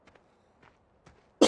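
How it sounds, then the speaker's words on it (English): A man coughs in a sudden loud burst after a few faint soft taps or footsteps, the cough harsh and close to the microphone. "This cough, man."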